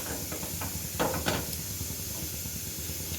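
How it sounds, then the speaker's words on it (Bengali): A lit gas stove burner gives a steady close hiss throughout, with a few light kitchen clicks and knocks near the start. "গ্যাসটা জ্বালিয়ে দিয়েছি।"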